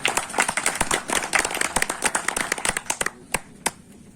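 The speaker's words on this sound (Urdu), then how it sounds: "اب آپ بھرپور تالیوں کی گونجی آواز آپ کو سنیں گے" An audience applauds inside a marquee at a university classmates' gathering, a burst of clapping that thins into scattered individual claps before fading.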